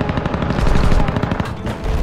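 Rapid automatic gunfire in the zombie game Dead Island, a dense, loud stream of overlapping shots filling the whole moment with a brief lull near the end.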